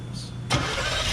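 A 1978 Chevy ramp truck's small block Chevy V8 with HEI ignition and Edelbrock parts cranks and catches midway, then runs steadily into a loud, even idle.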